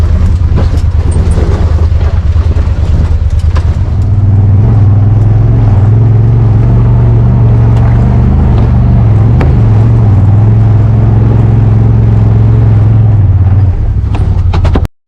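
A 2022 Honda Talon X4 LV side-by-side crawls off-road over concrete in four-wheel drive, its engine a loud, close, steady drone that rises into a sustained strained hum under load, continuous throughout.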